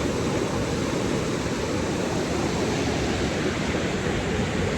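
A flooded river runs muddy and high. Its water makes a loud, continuous broadband roar that stays close and unchanging throughout, with no voices.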